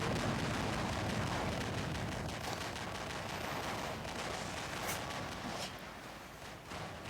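Continuous gunfire and explosive blasts from giant combat mechs in War Robots, a dense roaring barrage that stays loud throughout and eases slightly toward the end.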